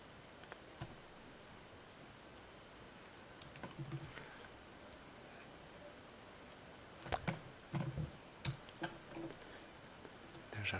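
Computer keyboard keys typed in short bursts of quiet, close clicks, a few scattered taps early on, then a quicker cluster of keystrokes near the end.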